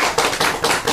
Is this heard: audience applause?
yes